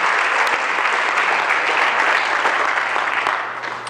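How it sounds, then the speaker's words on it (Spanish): Congregation applauding during a Spanish-language church sermon, a sustained wash of many hands clapping with a few sharper claps standing out, steady before tapering slightly at the close. "Denle un aplauso al Espíritu de Dios,"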